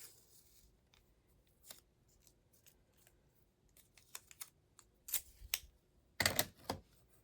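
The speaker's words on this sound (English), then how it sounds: "we're gonna have to use scissors" Scissors cut through paper in a quiet papercraft session, giving sparse, faint snips at first that build into several louder, sharper clusters of crisp cutting near the end, close by and with no speech.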